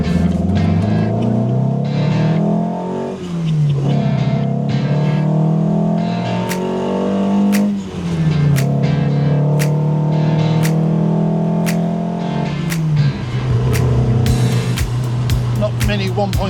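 A classic Lancia Fulvia 1.3 drives along, its engine loud and close as it climbs through the revs, drops at each gear change and pulls up again in a steady cycle.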